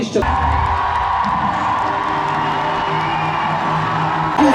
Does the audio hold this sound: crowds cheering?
yes